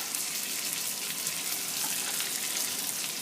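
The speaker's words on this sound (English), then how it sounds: "so you want some hot water, about a cupful in there" Hot water, about a cupful, poured into a frying pan where chicken has been browning, giving a loud, steady hiss and sizzle with a rushing, gushing wash that holds evenly throughout, no voices.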